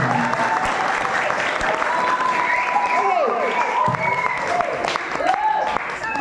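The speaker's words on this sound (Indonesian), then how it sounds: "Sekali lagi tepuk tangan." An audience at an Islamic faith-and-piety night gathering breaks into sustained, dense applause that stays loud and even throughout, with some voices rising faintly over the clapping.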